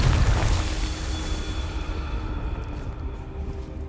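A Confringo fire spell explodes in Hogwarts Legacy: one loud booming blast at the start that fades into a long, rumbling, noisy tail.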